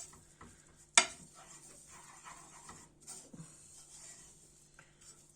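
Flour and butter being stirred in a saucepan for a roux as the base of a Madeira sauce for beef tongue, quiet scraping strokes with a sharp clink of utensil against pan.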